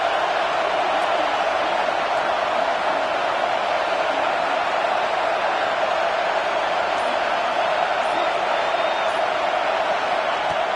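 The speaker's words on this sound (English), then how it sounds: "wow, listen to this crowd noise. This stadium is vibrating" Steady roar of a packed stadium crowd at an Arkansas college football game, continuous and loud with no breaks, the broad wash of many voices blending into a dense, vibrating din.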